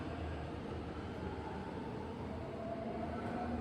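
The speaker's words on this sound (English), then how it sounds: "I rode on an L-stock train, a modernized variation of the older D-stock trains constructed by Mafersa" A Mafersa-built L-stock São Paulo Metro train, a modernized D-stock, rumbles along in a steady, loud, continuous drone with a faint whine running throughout.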